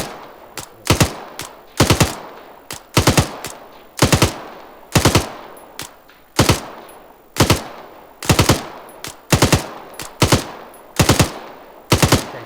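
Bursts of machine gun suppressive fire, loud and close, in short rapid strings repeating at regular intervals with brief gaps between, no voices.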